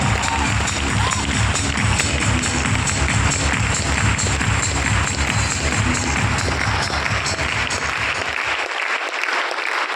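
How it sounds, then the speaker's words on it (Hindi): A Hindi stage event audience gives loud, sustained applause as a speaker walks on stage. Dense clapping fills the room and stops abruptly near the end. "जोरदार तालियां"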